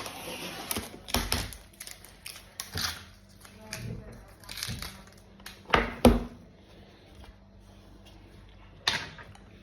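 A stiff snack package is pulled and torn open with some effort, producing scattered sharp crinkling rustles and bursts of plastic noise, close by, with brief quiet talk in between.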